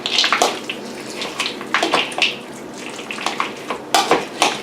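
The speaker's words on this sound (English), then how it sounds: "Just mix that up." Chicken salad with mayonnaise, celery and nuts is stirred in a bowl, giving wet, squelchy scraping strokes in an irregular rhythm, close and fairly loud, with no talking.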